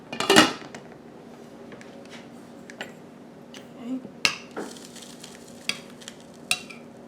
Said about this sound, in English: I'm going to dish me up some of these wonderful blackberry dumplings